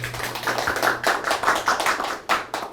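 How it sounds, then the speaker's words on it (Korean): A small lecture audience claps in uneven, scattered bursts, the applause light and close, with a brief low hum near the start. "박수로 환영하겠습니다"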